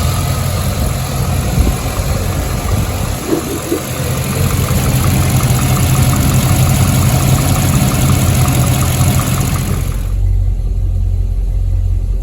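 A Land Rover Discovery 2 V8 engine with a new catalytic converter idles steadily with a smooth, low rumble and no exhaust blowing, running alone and fairly loud, then its tone drops and quiets near the end.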